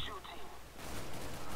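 Gunfire in the video game CS:GO comes as a rapid burst of shots in the second half of the clip. The shooting is fairly faint and sits under a soft background of voice chatter.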